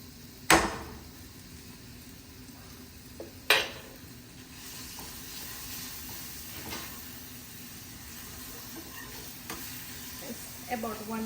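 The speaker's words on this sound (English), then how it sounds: "And now we are going to add jaggery," Jaggery goes into a pan of sweet mango pickle and is stirred, giving a soft continuous scraping and faint sizzle, broken by a couple of sharp clinks of the spoon against the pot.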